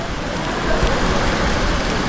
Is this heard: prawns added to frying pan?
no